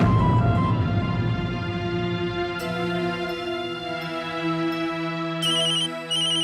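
A mobile phone ringtone announces an incoming call, a steady melodic electronic tune playing continuously and clearly, with bright chiming tones joining near the end.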